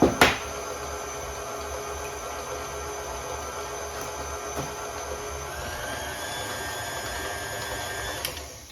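A KitchenAid stand mixer beating cheesecake batter with eggs, a steady close motor whine with faint beater clicks, running continuously without voices.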